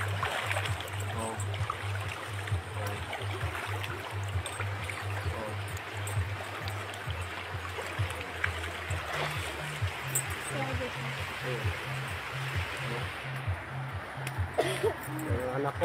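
A person wades through waist-deep brown floodwater, with steady sloshing and trickling around the body, a low engine-like hum beneath, and a voice talking intermittently over the water.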